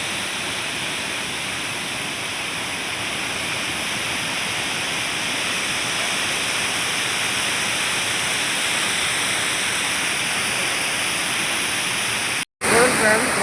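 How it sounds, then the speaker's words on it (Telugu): Waterfall pouring at an adventure park in Seethampeta, a dense continuous roar of falling water filling the scene, steady and loud with a brief cut near the end. "చూడండి ఫ్రెండ్స్, వాటర్ ఫాల్ అయితే ఎలా ఉన్నాయి, ఓకే ఈ విధంగా పారుతుంది."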